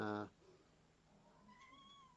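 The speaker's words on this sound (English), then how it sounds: "my cat over there, she's meowing" A pet cat meows faintly from across the room, a thin rising call near the end, following a brief cut-off voice at the start.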